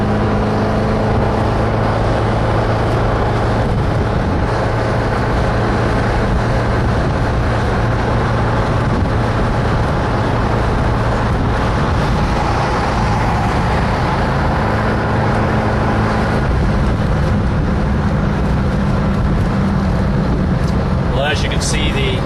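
A 1979 Ferrari 308 GTS rolls through traffic with a steady engine and road drone heard from inside the car. There is no clear acceleration, and a faint voice talks over the smooth, continuous hum.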